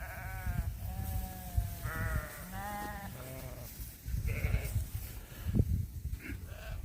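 Several Katahdin sheep bleat one after another outdoors, wavering calls overlapping at moderate distance with a low background rumble.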